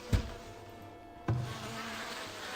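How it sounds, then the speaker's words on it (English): Bees in the Farthest Frontier video game give a steady insect buzz around apiaries, faint and close, broken by two brief soft thumps. "I'm going to make the game really quiet now because I'm not enjoying the sound of the bees"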